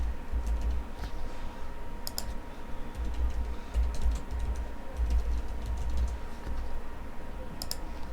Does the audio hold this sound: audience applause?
no